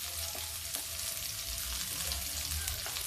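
Ghee sizzling and frying steadily in a hot pan on a gas stove over kale chana, a continuous close crackle with no talking.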